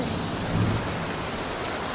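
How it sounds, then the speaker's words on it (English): Steady heavy rain hisses with a low rumble of thunder underneath, a dense, continuous wash of storm noise. "The way it is thundering is scary."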